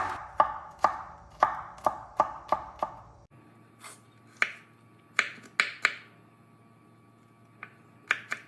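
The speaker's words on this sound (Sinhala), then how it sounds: "කොටු හැඩයට පොඩියට තමයි මම සුදු ලුණු ටික කපා ගත්තේ" A knife chops garlic into small cubes on a cutting board, leaving sharp, crisp taps in a quick, steady run of about eight strokes, then a pause and sparser, irregular single chops, close and clear with no talking.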